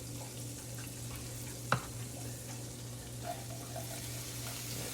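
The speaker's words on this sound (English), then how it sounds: "to our pan we're going to add some onion" Onion going into a hot pan for a creamy lemon chicken thigh sauce produces a quiet, even sizzle, with one sharp tap early on and faint scraping afterward.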